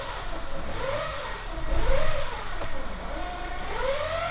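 A steady mechanical whine from a Chevrolet Orlando diesel's 6T45 automatic transmission, heard in park, rises and falls over the low rumble of the idling diesel engine, heard up close with no talking.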